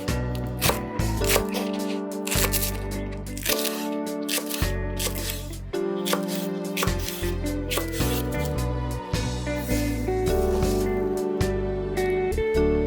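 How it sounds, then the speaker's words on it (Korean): A knife chops a leek-like green onion into large pieces on a cutting board for dried pollack soup, brisk irregular taps over background music. "그리고 대파도 큼직하게 썰어요."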